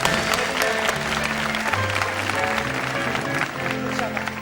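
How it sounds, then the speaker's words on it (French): Studio audience applause on a 1980 Belgian television game show, steady clapping throughout under sustained musical tones from the set. "on l'applaudit très fort, je crois"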